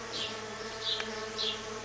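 Brazilian stingless bees, melipona and trigona, at the hive entrance: a faint, steady buzzing with three brief brighter swells as bees fly close by, heard alone over a low hum.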